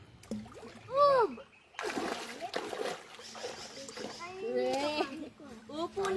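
A child splashes in water at a family campsite in Magallanes, Cavite, with bursts of sloshing between excited high-pitched child chatter and squeals close by.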